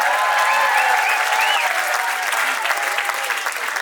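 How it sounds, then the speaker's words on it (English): An audience bursts into loud, sustained applause, dense clapping filling the room with a few cheers rising over it and no talking. "Please give yourself a huge round of applause."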